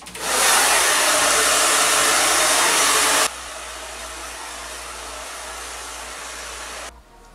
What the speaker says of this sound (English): I'm gonna leave that to preheat while I dry my hair.